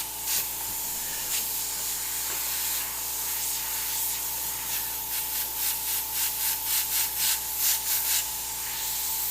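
An airbrush sprays Pyrrole Red paint over a black base in a steady, continuous hiss. Near the end, rapid pulsing bursts come as the trigger is worked, and no one speaks.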